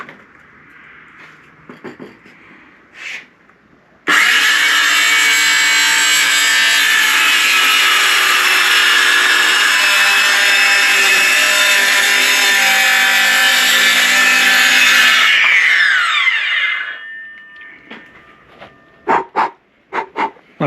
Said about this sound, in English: So we're going to cut the new piece of plywood out.